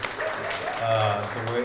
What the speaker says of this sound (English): Alan deserves a big round of applause